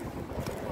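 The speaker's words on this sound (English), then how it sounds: "It's too windy. I'm fighting the wind." Strong outdoor wind buffets the microphone in a steady, loud roar for under a second, with no talk.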